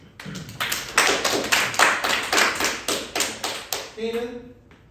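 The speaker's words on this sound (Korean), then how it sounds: "박수 한번 주시죠." Students in a classroom clap in a quick run of about a dozen sharp, loud beats, close and evenly paced, before a voice briefly speaks at the end.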